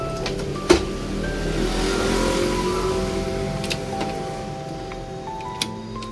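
A Honda Shine motorcycle engine runs at a steady hum during a gear check after the gear shifter is refitted, with a few faint ticks over the continuous drone.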